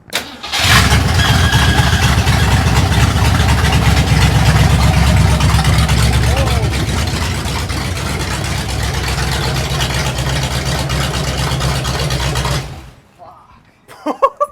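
A 1964 Mercury Cyclone's V8 engine cranks and fires up, then settles into a loud, rumbling idle close by before cutting off abruptly near the end.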